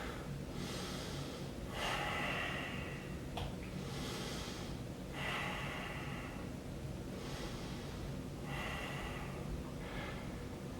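Deep rhythmic breaths during a yoga warrior pose, a series of slow airy inhales and exhales in bursts about every two seconds, soft and close, with no talking.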